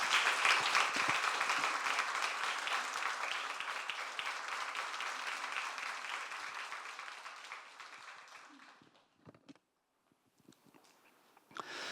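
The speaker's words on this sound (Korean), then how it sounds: "박수를 오래 치니까 참 좋네요" A church congregation applauds at length to welcome the pastor to the pulpit before a Sunday sermon, a steady dense clapping that gradually thins and fades out into near silence with a few scattered claps.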